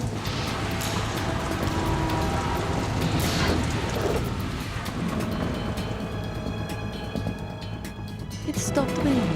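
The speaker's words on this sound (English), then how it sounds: "It stopped raining." Rain and thunder from the Metal Gear Solid 2 video game, set on a tanker, form a dense, steady wash with low rumbling swells and a louder burst near the middle, under game music and effects.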